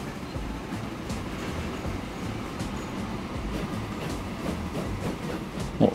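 Continuous rumbling of a six-car train in the video game Transport Fever, with faint rhythmic clacking, steady and moderately loud throughout, with no voices.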